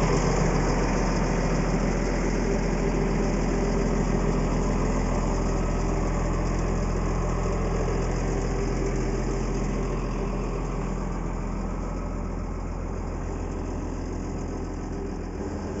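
Caterpillar 963C track loader engine idling as it warms up in the morning, a steady close diesel rumble with an even low knock throughout, no talking.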